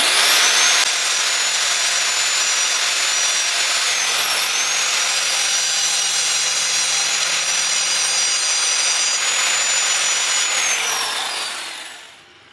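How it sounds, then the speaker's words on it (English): An old angle grinder cutting through a bicycle chain on a BMX restoration, a loud, steady high-pitched whine with a grinding edge that holds for about ten seconds before winding down near the end. "I had plenty of stuff that would cut things. So, the old grinder."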